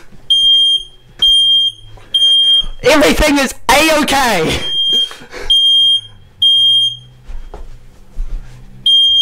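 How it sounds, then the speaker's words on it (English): Smoke alarm in a house sounding repeated high-pitched beeps in an even rhythm, loud and close, with someone talking loudly in the middle. "How do you turn off a smoke alarm?"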